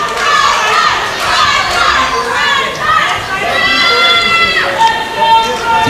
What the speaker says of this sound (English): Crowd chanting Dicky, the other half chanting MPT.